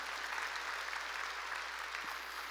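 A church congregation at a worship service claps together, steady broad applause at a moderate distance, even throughout with no voices above it.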